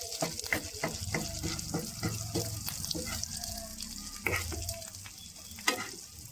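Koi fish frying in plenty of oil gives a steady crackling sizzle with scattered sharp pops and clinks, loud and close, with no talking.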